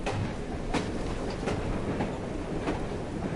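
A train rolls along inside Assassin's Creed Syndicate, producing a continuous dense rumble with periodic clickety-clack wheel knocks and faint squeals at a steady rhythm. No voices are heard.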